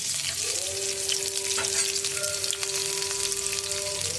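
Curry leaves frying in hot oil make a loud, continuous crackling sizzle close by, steady throughout with faint popping on top.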